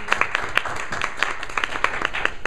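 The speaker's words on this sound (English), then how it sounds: "Round of applause." Scattered audience clapping at a Toastmasters speech workshop, individual claps standing out as irregular sharp hits over a steady room wash, moderately near.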